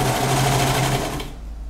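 A sewing machine runs a straight seam on the waistband of a handmade panty, a fast, loud, steady mechanical whir close up that cuts off abruptly near the end.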